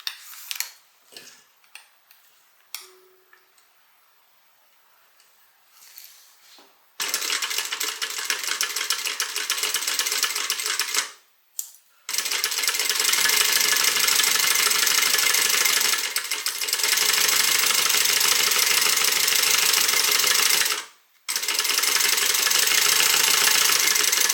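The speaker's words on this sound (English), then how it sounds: "So we'll go ahead and sew the 1/2 inch." A sewing machine stitches a half-inch seam along the long edge of a tote bag with solid front and contrasting sides. After a quiet start with small handling sounds, it runs in long, loud, steady bursts broken by two brief pauses.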